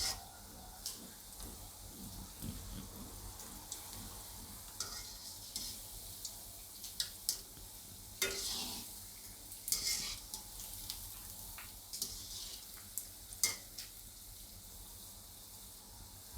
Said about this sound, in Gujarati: ધીમા તાપે આને એકદમ સરસ તરી લેવું આપણે